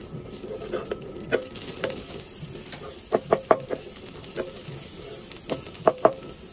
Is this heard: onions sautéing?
yes